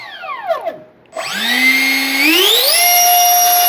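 An H-King L-39 64mm electric ducted fan RC jet spins down, then spools up again with a loud rising whine that climbs in pitch and holds at a steady high scream, very close.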